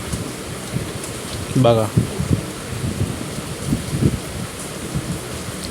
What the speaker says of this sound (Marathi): बाहेर मस्त थंडगार पाऊस पडतो आहे